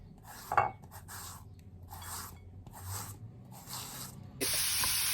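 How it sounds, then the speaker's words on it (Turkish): Zucchini being chopped with a hand vegetable chopper, five rhythmic swishing, scraping strokes at roughly one-second intervals, close and fairly quiet, ending in a brighter rush of sizzling. "Şöyle bir kabak doğrayıcım var."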